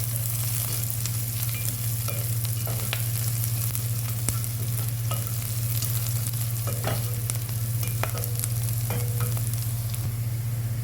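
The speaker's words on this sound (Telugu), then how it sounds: "ఇందులోనే ఎండుమిర్చి వేసుకుందామండి. అన్నీ దూరగా ఎరగాలండి." Dried red chillies fry in hot oil for an Indian potato curry, giving a steady, close sizzle with occasional stirring scrapes over a constant low hum.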